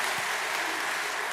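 Congregation applause for the church choir at a Sunday worship service, a continuous broadband wash of many hands clapping, steady and loud throughout the short stretch.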